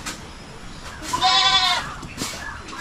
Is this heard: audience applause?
no